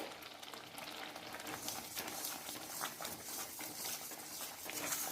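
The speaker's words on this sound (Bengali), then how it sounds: "নাড়িয়ে নাড়িয়ে এটা একটা ডো তৈরি করে আনতে হবে।" A carrot and milk mixture stirred into a dough in a pan, a quiet steady sizzle with frequent soft spoon scrapes against the pan, close and without talking.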